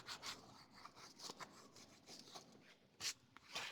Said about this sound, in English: Take a nail file that I have here, and I'm going to just rough it up